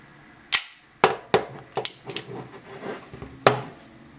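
Umarex Colt Special Combat CO2 4.5mm BB pistol fires several sharp, loud pops, four main shots at uneven intervals with lighter mechanical clicks of the working slide between them, close and with no talking.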